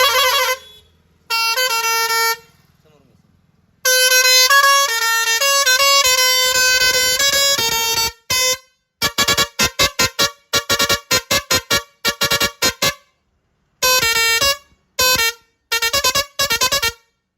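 A loud vehicle air horn blasts repeatedly, first in long sustained tones, then in rapid staccato bursts and short patterned honks.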